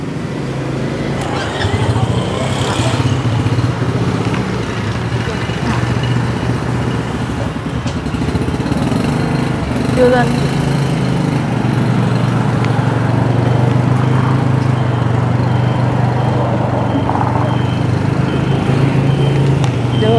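A motorbike engine runs steadily and fairly loudly at close range for the whole stretch, with people talking over it.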